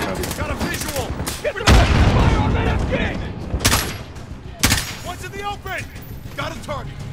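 Gunfire in a realistic military shooter video game, bursts of rifle shots and a heavy boom rattling under excited voices calling out targets.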